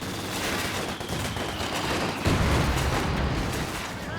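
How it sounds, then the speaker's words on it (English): A Company of Heroes 2 4v4 flamethrower battle, a continuous roaring rush of fire mixed with gunfire, swelling louder partway through and staying dense to the end. "Flames opening up, flamethrower battle there."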